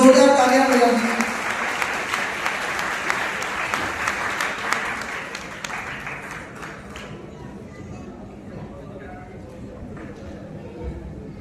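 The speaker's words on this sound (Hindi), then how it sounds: "पर जोरदार तालियां बजाइए।" An audience applauds after a Ramayan stage play at a temple event, starting loud and steady, then tapering into scattered claps, with a voice speaking over the clapping at the start.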